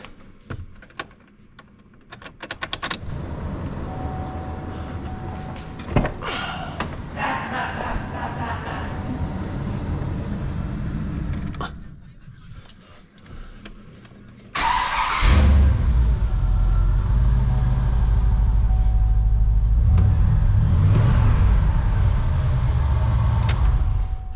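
Car engine fired up and running after an exhaust leak repair, a steady loud idle with a rumbling low end that jumps louder partway through as it revs, with shop clatter and handling noises before it.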